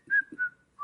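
Two people whistle a short melodic tune together in an indoor interview, clear sustained whistled notes rising and falling over about a second, with a brief pause before a final note.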